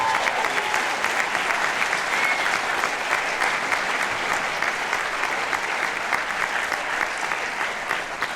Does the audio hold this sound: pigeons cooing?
no